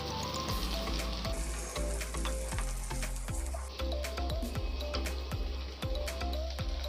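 Green chilies, peas and mixed vegetables fry loudly in a pan with a steady, dense sizzle, punctuated by regular clanks and scrapes of a spoon stirring throughout, with no talking.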